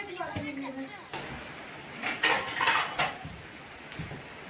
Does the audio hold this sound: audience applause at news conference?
no